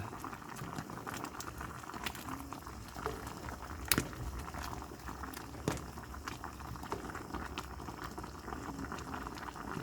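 Chayote cooking in a covered pot of coconut-milk stew, a steady low bubbling simmer with soft pattering pops and a few sharper clicks, quiet and close.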